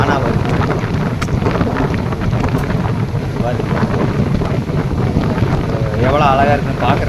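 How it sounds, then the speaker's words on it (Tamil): Natural wind rushes steadily past a train travelling through dense forest on a route from Shoranur. The blowing roar stays loud and constant while a voice speaks over it. "இந்த இயற்கை காத்து"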